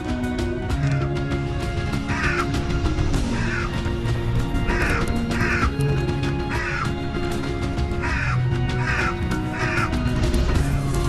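A crow caws repeatedly in loud, harsh bursts spaced every second or so, each call strained and shrill as if the bird is screaming in pain, layered over a dense, steady background of other sound.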